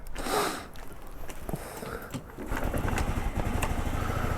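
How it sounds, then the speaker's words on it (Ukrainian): The small fuel-injected engine of a 2019 Suzuki Address V125 scooter idles close by with a soft, even putter, then settles into a steadier running rumble. "Гарно так м'якенько працює двигунчик."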